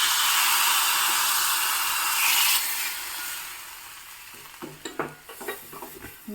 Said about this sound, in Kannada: ಇಂಗು ಸಾಸಿವೆ ಒಂದು ಚಮಚ ಕೊಬ್ಬರಿ ಎಣ್ಣೆ ಮತ್ತು ಉದ್ದಿನ ಬೇಳೆ ಹಾಕಿ ಒಗ್ಗರಣೆ